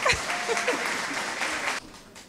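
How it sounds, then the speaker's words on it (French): Loud audience applause and cheering greet two finalists called onstage at the Haïti Je Connais live challenge concert, a short dense burst that cuts off abruptly near the end. "Sous vos applaudissements, s'il vous plaît, plus fort"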